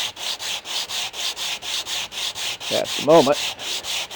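Wood being sanded by hand for a repair on an Ashford Scotch tension spinning wheel, with steady rhythmic rasping back-and-forth strokes close up, about four per second; a brief voice cuts in near the end.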